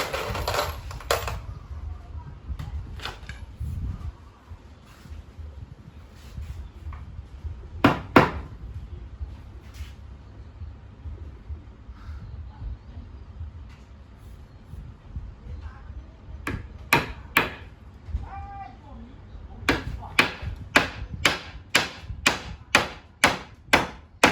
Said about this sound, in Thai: เราก็จะทำการตอกตะปูก็แล้วกัน